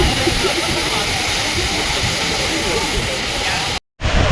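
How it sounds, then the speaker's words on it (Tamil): A heavy waterfall, Agaya Gangai falls in the Kolli Hills, pours continuously, a dense roaring rush of water close by, briefly cutting out near the end. "பயங்கரமாக மேலேருந்து தண்ணி கீழே ஊற்றிட்டு இருக்குதுங்க"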